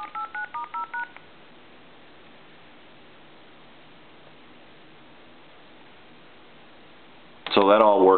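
Tones from a push-button phone redial key on a repaired PTT telephone: a quick run of about six clear DTMF beeps at the start, then a long stretch of line hiss before a louder burst of sound near the end.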